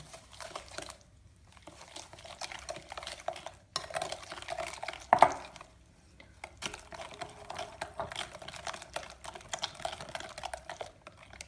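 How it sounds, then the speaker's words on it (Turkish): Eggs and sugar whisked by hand in a bowl, a quick rhythmic clatter of the whisk against the sides, steady and close, with brief pauses between bursts. "Şimdi bunu iyice çırpalım."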